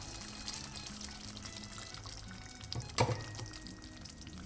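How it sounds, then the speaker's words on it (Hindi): Half a cup of water goes into fried masala for mutton handi, giving a quiet sizzle with a brief splash and bubbling burst midway, no voices. "अभी मैं इसमें 1/2 कप जितना पानी मिला लूंगी"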